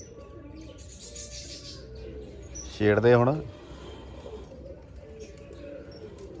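Pigeons at a rooftop loft perch make a brief, loud burst of cooing and calls near the middle, set against steady background noise, with people talking in Punjabi around it.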